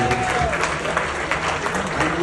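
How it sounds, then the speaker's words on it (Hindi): An audience claps for Anu at a televised event with comedian Kapil Sharma, a dense, steady wash of applause filling the moment with a faint murmur of voices underneath. "लेकिन अनु जी के लिए एक बार जरूरदार तालियां हो जाए"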